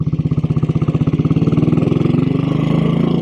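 A 1957 Royal Enfield Bullet 500 single-cylinder motorcycle thumping steadily while riding, its even pulses close and loud, rising slightly in pitch and smoothing into a continuous drone.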